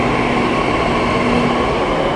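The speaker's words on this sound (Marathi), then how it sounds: "मेट्रो निघली आहे आपली" A Pune metro train departs with a loud, steady rumble and whine, continuous and close.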